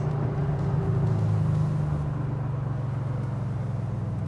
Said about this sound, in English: You hear the supercharger?